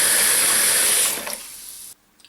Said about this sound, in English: What I'm going to do now is just add water to this so that all the bones are covered.